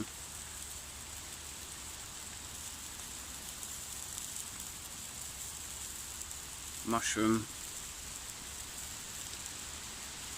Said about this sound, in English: It's just starting to rain as I'm finishing.